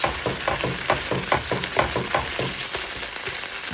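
Anchovies and garlic sizzle steadily in a frying pan, with a dense crackling fry and a rhythmic series of stirring or scraping strokes running through it, close and moderately loud, with no talk.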